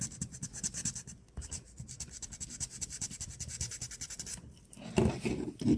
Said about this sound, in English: you just want to sand down the head sculpt